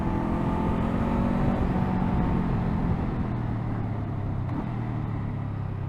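A 2024 Honda SCL500 motorcycle engine heard from the rider's position while downshifting toward a traffic light, a loud continuous engine drone with stepped falling pitch and wind rush, alone without voices.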